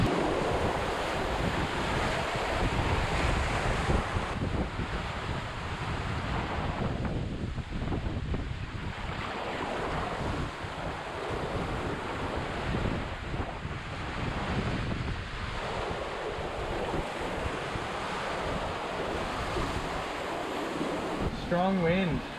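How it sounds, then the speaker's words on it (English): Strong wind roars across the microphone alongside breaking ocean waves aboard a sailboat under a triple-reefed main with the jib taken down in open ocean, a loud, continuous rushing wash with surges and gusts throughout. "Strong wind."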